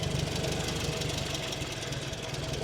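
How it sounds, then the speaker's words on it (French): A restored Renault Caravelle engine idles steadily after its idle speed has been adjusted with a flat screwdriver, giving a close, even mechanical rumble with a regular beat and no talk. "Je vais lui remettre juste un tout petit peu de ralenti parce que je le trouve un peu bas."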